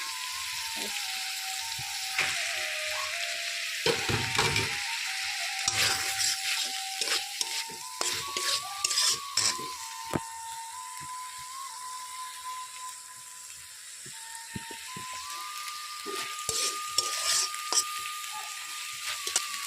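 Taro stems sizzle steadily in a hot pan with fried spices while a utensil scrapes and stirs in repeated bursts, with a faint tonal hum running throughout.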